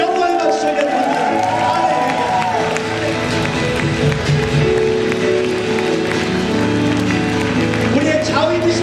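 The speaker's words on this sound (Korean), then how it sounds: "큰 함성과 영광의 박수 올려드립니다." Congregation at a church youth summer retreat's Saturday evening service cheering and applauding, loud crowd clapping and shouting blended with sustained music and voices underneath, continuous and full throughout.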